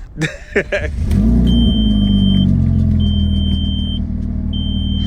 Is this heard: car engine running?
yes